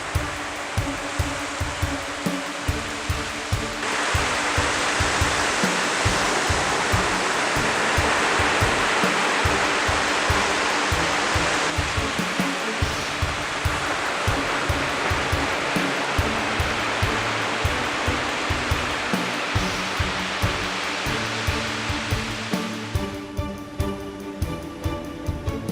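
Steady broadband roar of surf breaking on a black-sand beach scattered with rocks at Ujung Bate Putih, Aceh, continuous and fairly loud throughout without a lull.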